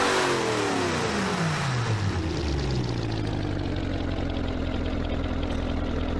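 A car engine with twin scroll turbos revs hard in the Automation game, pitch sweeping upward then settling into a steady loud drone, continuous and close with no talking.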